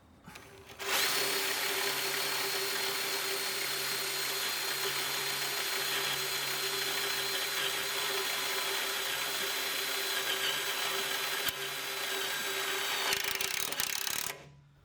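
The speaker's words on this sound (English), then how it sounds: "It should be drilling right into the frame." A power drill drills into a trailer's metal frame continuously for over ten seconds, a loud, steady whine with a brief dip near the end before stopping.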